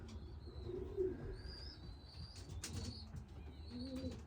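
Soft racing-pigeon coos repeat over a quiet background, with bursts of wings flapping nearby.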